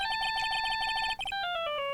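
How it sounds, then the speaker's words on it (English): A bright electronic phone ringtone from the video game Ace Attorney: Justice for All trills in a rapid repeating pattern, then shifts into a descending run of tones, loud and close with no talking. "I bet it was this ringtone that caused it."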